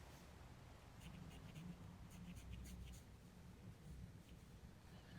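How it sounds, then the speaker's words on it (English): Pencil sketches a boat drawing on paper, close and quiet, with soft scratchy strokes in short repeated bursts of shading over a faint steady background hiss. "I love the sound of pencils on paper."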